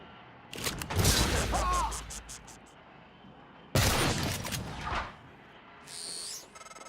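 Gunfire bursts from an Eradicator auto turret in the sci-fi game Prey, two loud broadband volleys with a quieter synthetic whir trailing after.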